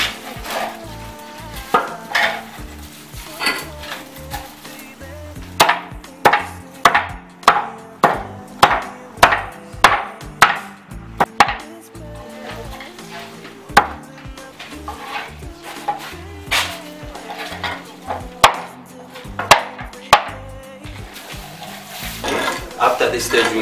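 Repeated sharp chopping strikes, irregular then steady, land on a surface at close range as mushroom-growing substrate is cut into 2 to 6 centimetre lengths, with occasional speech mixed in.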